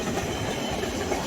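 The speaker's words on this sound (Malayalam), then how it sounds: "ഇത് നമ്മുടെ തടിയൊക്കെ എടുത്തോണ്ട് പോണ ട്രെയിനാണ്" A long freight train that hauls timber rumbles past in Tauranga, New Zealand, heading back empty after a delivery, with a steady, close, continuous roar and faint clickety-clack of wagons throughout, no voices.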